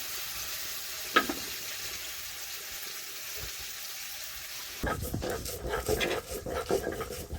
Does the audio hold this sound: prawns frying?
yes